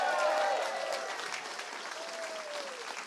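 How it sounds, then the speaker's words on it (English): Warm applause from the crowd at an NDP political rally in Brooks–Medicine Hat, steady clapping that is loudest at the start and then eases off, with a faint whistle-like tone over it. "Everybody else, give them a warm round of applause."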